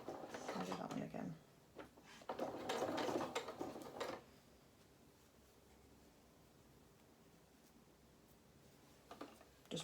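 A domestic sewing machine chain-piecing small fabric pieces for a festive rabbit doll runs in two short bursts of rapid stitching, close and moderately loud, followed by quieter handling sounds.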